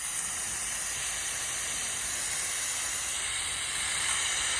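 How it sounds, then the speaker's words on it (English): A Melnor adjustable lawn sprinkler on a spike sprays water over a garden, producing a steady, even hiss with no pauses and no voices. "this is the sprinkler system when I just want to hit the garden."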